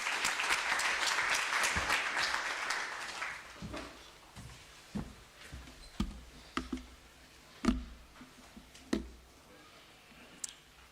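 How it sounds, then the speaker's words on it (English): Audience applause at a university research and innovation week ceremony, a dense burst of clapping that fades after about three seconds into scattered individual claps and sharp taps. "Please give her a round of applause."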